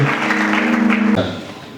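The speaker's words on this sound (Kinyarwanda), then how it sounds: "Tugukomeye amashyi, kandi tugukomeye amashyi, kandi tugondera amashyi tugushimira izina ryawe Yesu yakoze." A church congregation claps together in a dense burst of applause that fades out after about a second, heard under loud singing or speaking voices.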